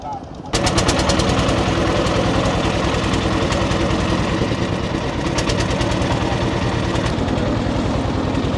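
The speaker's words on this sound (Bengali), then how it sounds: "ভোলাগঞ্জ বিছানাকান্দি থেকে সাদা পাথরের উদ্দেশ্যে আমরা ট্রলারে রওনা দিচ্ছি।" A trawler boat's engine at Bholaganj starts up abruptly and runs loud and close, with a fast, steady chugging rhythm that continues unbroken.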